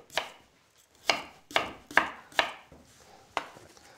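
Six crisp knife chops slice Norwegian salmon on a cutting board at an uneven pace, close and clear, with quiet pauses between them.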